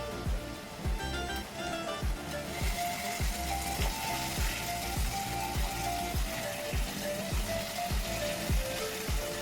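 Spiced Bhogi mixed-vegetable medley frying in hot oil with masala gives a steady, close, hissing sizzle across the whole stretch, with a regular low thumping beat running underneath.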